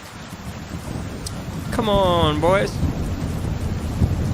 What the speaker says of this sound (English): Dang, that thunder even sounds good.